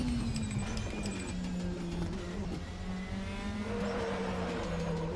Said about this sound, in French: vous l'entendez, hein, les pneus qui crient